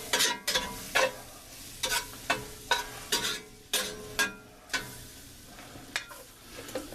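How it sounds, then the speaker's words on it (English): Metal spatula scraping and stirring flour into sausage gravy on a Blackstone griddle, with regular sharp scrapes about twice a second over a low sizzle, close and fairly loud, no talking. "You want that flour to kind of brown just a little bit."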